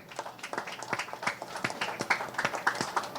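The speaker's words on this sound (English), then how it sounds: "Please, a big round of applause." An audience claps at the launch of Shobhaa De's book Insatiable. Many hands patter together in a quick, continuous burst that sounds fairly soft and spread across the room.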